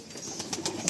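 A Madrasi pigeon coos softly in a loft, giving a short series of low, throaty pulses against faint background noise.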